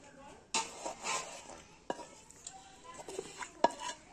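Small khoira fish lifted out of a frying pan with metal utensils in a home kitchen, giving a few close, sharp clinks and scrapes between quieter stretches, with a faint sizzle underneath.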